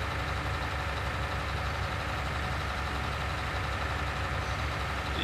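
Steady low engine drone of a John Deere tractor idling in a farming video game during a silage harvest, an even, continuous rumble with no voices.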